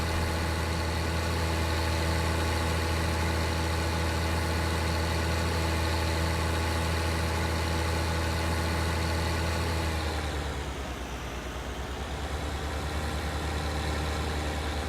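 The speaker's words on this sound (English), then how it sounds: "Just gotta bring my stump grinder down and take care of that little stump." A stump grinder working in Farming Simulator 19, a steady droning engine hum with layered tonal whine that dips briefly in pitch and loudness near the end before settling back, with no voices.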